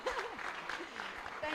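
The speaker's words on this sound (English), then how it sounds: "Let's give them another round of applause" Applause from the audience at a live Masters in Communication and Media event at Pwani University, steady clapping through the whole stretch with voices talking over it.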